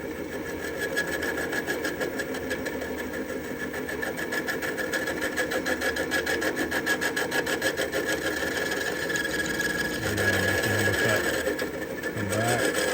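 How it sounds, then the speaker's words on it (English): A lathe takes intermittent light cuts, scraping the threads out of the inside of a nut; a steady mechanical whir and rasping scrape run throughout at moderate level, with a lower rumble swelling near the end. "Intermittent cutting, just cutting the threads off."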